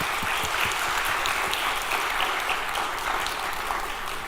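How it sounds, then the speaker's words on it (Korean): A church congregation applauds together in steady, dense clapping that holds for the whole stretch, moderately near and full, with no speech over it. "우리 박수로 축복하겠습니다"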